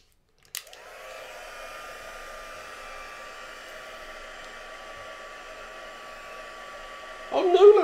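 A heat tool whirs steadily while drying mixed media paint, starting with a click and a rising blower tone, then holding a constant loud hum before a brief rustle at the end.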